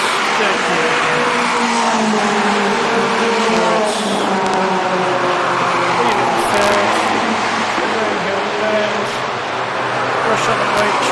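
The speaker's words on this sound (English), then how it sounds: "going into the brakes, third gear again" BMW Trophy Cup race car at Brands Hatch braking hard into a corner in third gear, loud close engine roar with shifting revs and tire noise, steady throughout, with a voice talking over it.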